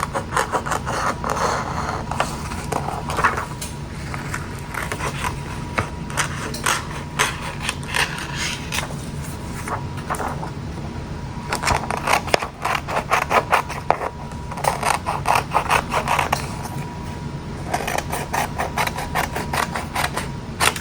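Scissors cut around an image printed on canvas, giving a long run of close, dry snipping and scraping strokes, sometimes bunched into quick bursts and sometimes slower, with no one talking.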